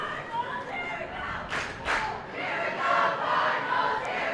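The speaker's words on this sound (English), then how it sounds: "Cardinal crowd trying to get some blood pumped back into these players here." A home crowd of Cardinal fans at a state soccer final roars and cheers in a sustained, rising wash of noise. A few louder shouts stand out over the general din, and talking blends into the crowd.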